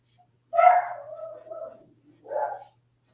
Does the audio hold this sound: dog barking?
yes